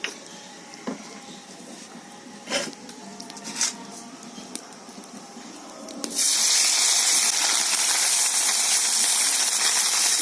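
Mustard oil heating in a hot wok for frying small mourola fish: quiet crackles and a few sharp ticks at first, then a sudden loud, dense hiss and sizzle that continues to the end as the oil goes in.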